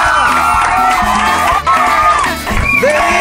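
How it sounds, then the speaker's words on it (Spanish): A large crowd in Cuernavaca roars and cheers in celebration of a contest win, with loud whoops and shouts rising over a continuous dense cheer throughout. "la gran bulla de Cuernavaca para ti celebrando tu victoria"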